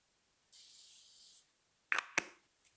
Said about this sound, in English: I'm just going to spray a little bit of the Morphe spray